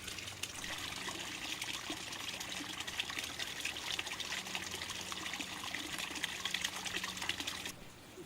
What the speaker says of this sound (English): very, very simple, inexpensive water features that bring that feeling of water and the sound of water into